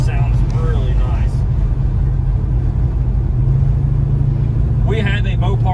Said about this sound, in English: But that is what I love the most, the sound of that V8.